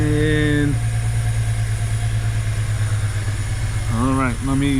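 The N52 engine of a 2007 BMW X3 with multiple faults idles with a steady, loud mid-pitched hum throughout, while someone speaks over it at the start and near the end.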